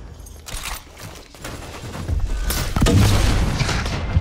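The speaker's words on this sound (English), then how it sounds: "Flashbang out. Eyes down." A flashbang grenade goes off amid gunfire in the Predator: Hunting Grounds video game, a loud close boom within bursts of rapid shots and crackling battle noise that builds toward the end.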